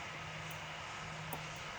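Airplane engine drones steadily on approach to Keflavik in the Roblox PTFS flight game, a continuous low hum and broadband rush with a few brief high clicks over it.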